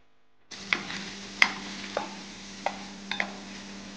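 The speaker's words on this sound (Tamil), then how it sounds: "ஆனியனை லோ ஃப்ளேமில் இந்த மாதிரி ஒரு 30 செகண்ட் வதக்கிட்டேன்" Chopped onions cook over low flame in melted butter in a pan, giving a soft steady sizzle with a few sharp clicks and taps of a utensil against the pan.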